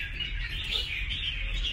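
Young caged red-whiskered bulbuls, about three weeks old, give a steady thin chirping that runs without a break, close by, with a slightly louder call right at the end.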